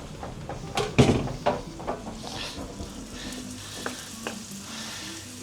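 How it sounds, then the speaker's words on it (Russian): Chicken sizzles steadily in a hot pan, with a few clattering knocks and scrapes of utensils early on, no voices. "И пускай потихонечку это жарится."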